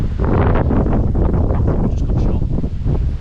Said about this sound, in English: Welcome to a very windy West Sussex.